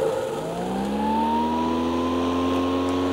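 A Toro 60-volt self-propelled lawn mower runs on its high setting, giving off a steady, loud electric motor whine whose pitch rises slightly, heard up close with no speech over it.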